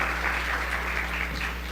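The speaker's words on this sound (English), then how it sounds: "clap it up for everyone" An audience at a morning business talk applauds, a steady, moderately distant patter of many hands clapping over a low hum.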